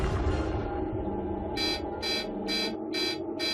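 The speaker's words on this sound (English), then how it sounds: "alarms sounded at the most sensitive scientific devices ever constructed" Five short, bright electronic buzzer blasts at an even rhythm from an alarm on highly sensitive scientific detectors, sounding over a low rumbling background.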